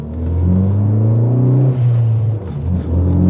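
A Ford Focus ST hot hatch accelerates hard through its gears, its engine note rising in a loud, close rumbling drone, dipping at a shift, then climbing again.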